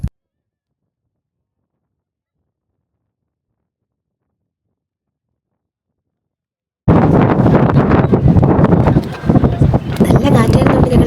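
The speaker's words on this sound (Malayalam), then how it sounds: "കാരണം നല്ല കാറ്റ് വീശുന്നുണ്ട്." After a long silent stretch, strong wind at a city viewpoint in Athens, Greece, roars in suddenly and buffets the microphone in loud, continuous rumbling gusts.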